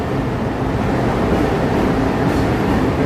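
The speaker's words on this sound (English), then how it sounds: "There's the L train moving through there." Chicago CTA Orange Line L train rumbling past on the elevated tracks above Lake Street in the West Loop, a loud continuous roar of wheels and rail noise with no talk.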